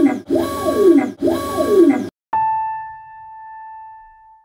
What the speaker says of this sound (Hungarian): Na ez a 3D nyomtató munka közbeni hangja.